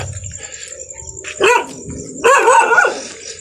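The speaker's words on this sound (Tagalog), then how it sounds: "marami pong aso dito, mga asong gala" Stray dogs bark nearby in two sharp bursts at midnight in Balite, the second a quick run of several barks, against a quiet outdoor background.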